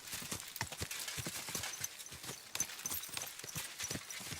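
Horse hooves clip-clop steadily at a walking pace in the medieval video game Kingdom Come: Deliverance II, quiet and close, with a brief whinny rising partway through.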